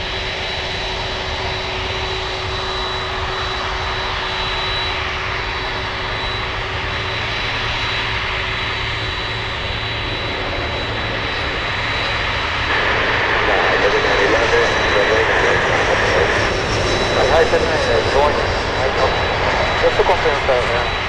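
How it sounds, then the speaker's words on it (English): A Boeing 747 landing on runway 8 at Miami International Airport gives off a steady, loud jet engine roar that swells near the end as the aircraft comes closer, with voices talking over it. "We're still going to go for the 7-4 Queen of the Skies, landing on runway 8."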